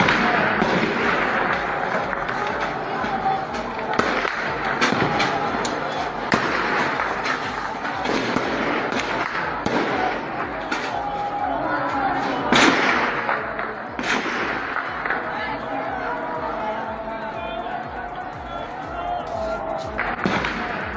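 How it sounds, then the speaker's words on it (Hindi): Rapid bursts of AK-47 gunfire crack repeatedly and irregularly over a constant noisy background during a protest in Pakistan-administered Kashmir, with voices audible throughout. "उन पर जो है ताबड़तोड़ गोली चलने की आवाजें आ रही हैं।"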